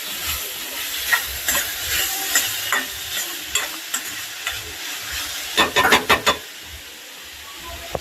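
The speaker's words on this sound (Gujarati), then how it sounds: "બ્રાઉન કલર ન થાય ત્યાં સુધી સાતળવા દેવાના છે" Chopped onions sauté in a pan in a Gujarati home kitchen, a soft steady sizzle broken by scraping stirs and a quick run of clattering spoon strokes near the end.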